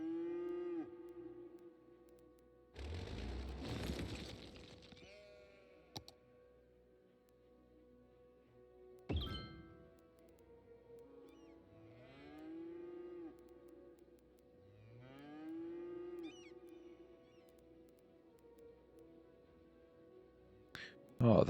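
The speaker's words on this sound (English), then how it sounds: "Cattle shed would make sense to go up here probably." Cattle lowing from a cattle shed in the Cities Skylines city-building game, several separate drawn-out moos spaced across the stretch, fairly clear against quiet ambience, with a short breathy burst near the start.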